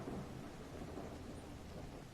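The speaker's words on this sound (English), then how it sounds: "It's raining cats and dogs here." Steady heavy rain with a low rumble of thunder in the horror video game Call of the Elder Gods, a dense continuous wash with no voices.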